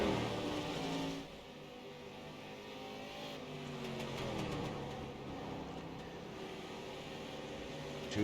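Race car engine in a racing game, droning steadily at high revs down the front stretch, with a brief dip then a sustained loud whine and shifting pitch throughout; no talk.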